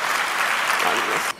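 Congregation clapping at a church sermon, a dense, steady wash of many hands applauding together that holds loud for over a second, then cuts off abruptly.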